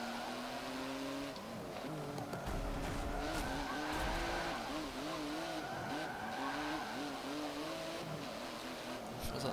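A Porsche race car in Forza Motorsport 7 drives hard, its engine note rising and falling in steady wavering pitch while tires squeal through corners, loud and continuous throughout.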